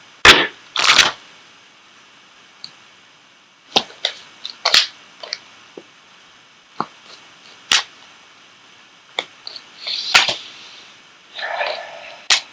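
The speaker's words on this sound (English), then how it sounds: "I am going to go ahead and pull an Ascended Masters card for you as well" An Ascended Masters oracle deck is shuffled with crisp card riffles and flicks at the start, then scattered sharp snaps and soft slides as cards are handled and pulled, close and fairly quiet.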